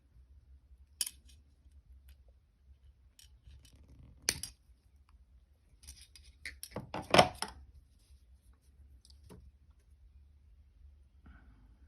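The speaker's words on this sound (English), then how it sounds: "So I'm going to cut that off at the back. Just grab my cutters." Wire cutters snip through craft wire for a handmade freeform wrapped ring, giving a few crisp, faint clicks spaced apart in a quiet room, with one sharper cluster of snips near the middle.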